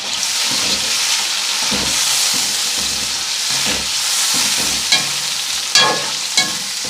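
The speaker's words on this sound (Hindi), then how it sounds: "क्योंकि इसको थोड़ी देर फ्राई करेंगे इसलिए थोड़ा फ्राई करना चाहिए चिकन को" Chicken fries in a pan for a cauliflower chicken curry, making a loud, continuous sizzle under repeated scraping stirs, with a few sharp utensil knocks toward the end.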